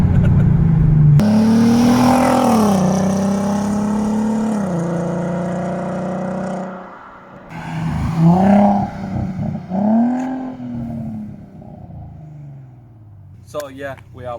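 VW Golf R32 Mk5 with its VR6 engine accelerating hard, loud rising engine tones that drop with gear changes, then a second burst of revving before fading to quiet with a brief noise at the end.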